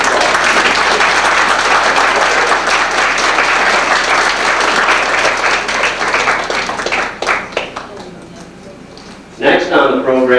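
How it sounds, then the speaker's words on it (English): Audience applause for a performer at a 1991 Christmas concert, loud and sustained at first, thinning out into scattered claps, then a voice speaks at the end. "Let's give her another round of applause."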